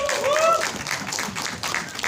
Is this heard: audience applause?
yes